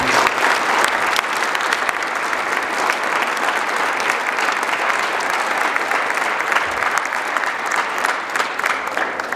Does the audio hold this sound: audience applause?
yes